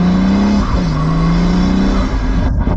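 A Pagani Huayra Roadster BC pulls away in first gear, its engine droning loud and close with a steady rising tone that shifts pitch partway, then cuts off near the end, with no voices.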